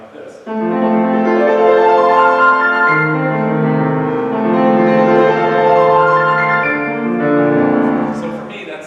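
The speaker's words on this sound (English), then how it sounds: "with a full pedal, it would sound like this" Piano plays a passage from Beethoven's Emperor Concerto with the sustain pedal held down fully, so thick, ringing chords blur together into one continuous resonant wash for about nine seconds.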